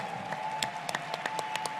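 Audience applause at a conservative political conference, a short steady patter of many hands clapping, moderately loud with distinct sharper claps rising above the crowd.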